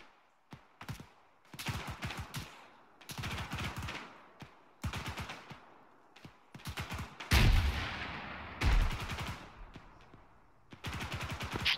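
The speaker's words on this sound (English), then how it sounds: "Some big explosion just went off the compound" Gunfire and a big explosion in the video game Arma 3, with bursts of rapid automatic shots and single cracks in irregular volleys and a heavier booming blast partway through, no talking.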